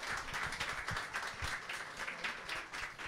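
Sustained, steady crowd applause with dense overlapping clapping for the Morenas del Caribe at a community peña gathering, filling the whole stretch without a break.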